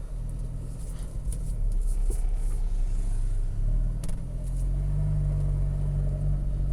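An Alfa Romeo 4C Spider pulls away in first gear, its engine drone rising into a louder, throaty rumble heard from inside the car, with no talk.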